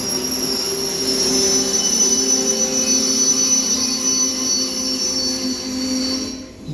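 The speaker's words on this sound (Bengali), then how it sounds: "দেখেন এটা হলো মালগাড়ি" Freight train wheels squealing at Kokrajhar railway station, a loud sustained high-pitched metallic screech with steady rumble beneath, continuing without a break before cutting off at the end.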